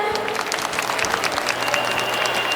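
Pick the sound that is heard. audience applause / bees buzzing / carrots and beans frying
audience applause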